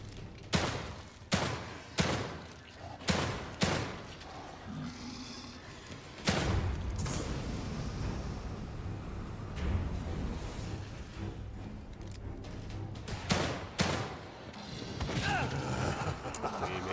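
Gunfire in The Evil Within 2: several sharp shots in a quick burst open the sequence, then a rumbling, fiery stretch follows before another cluster of shots rings out near the end.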